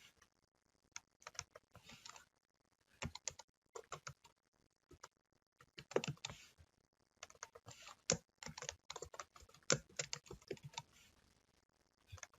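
Someone types on a computer keyboard, with irregular bursts of close, crisp key clicks separated by short pauses and ending in a denser run of keystrokes, with no talking.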